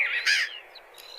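A crow caws in an animated children's story, with two harsh, loud squawking calls, one near the start and one at the end, separated by a quieter gap of faint chirpy tones.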